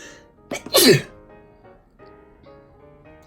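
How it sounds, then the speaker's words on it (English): A single sharp sneeze bursts out close by, followed by quiet breathing and faint room noise. "I'm about to sneeze"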